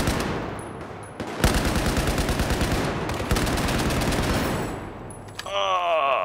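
Loud, close automatic gunfire in Battlefield 4 hardcore deathmatch on the Locker map, long rapid bursts with one sharp break, ending with higher metallic ringing tones.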